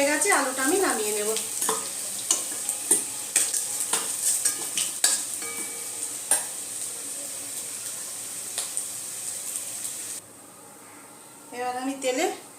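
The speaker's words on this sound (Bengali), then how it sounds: "এবার আমি তেলে গোটা গরম মশলাটা দিয়ে দিলাম, আর গোটা জিরাটা যে নিয়েছিলাম গোটা জিরাটাও দিয়ে দিলাম।" Whole garam masala and cumin seeds crackle and sizzle in hot oil in a wok, with spoon stirring, scattered pops and clinks of utensils against the pan; someone talks over the cooking at the start and end.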